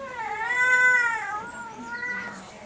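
A puppet cat at a library puppet theater lets out a long, wavering meow, likely a human voice imitating a cat, drawn out and rising then falling, followed by a shorter second mew.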